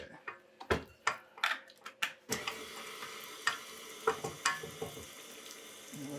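Whisk clattering through cupcake batter with a splash of milk in a bowl, a run of quick sharp taps and scrapes in irregular bursts, close and fairly quiet, with no talking.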